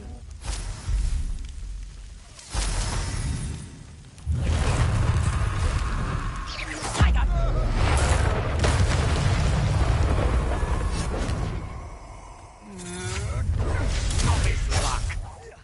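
Spell explosions from Hogwarts Legacy on PlayStation: a run of loud, heavy booms and rumbling blasts that follow one another with short gaps, filling the scene with dense low-end impact.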